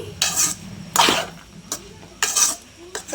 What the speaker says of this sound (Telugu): బీరకాయ ముక్కలు వేసిన తర్వాత మొత్తాన్ని చక్కగా మిక్స్ చేస్తున్నారు మా అత్తయ్య గారు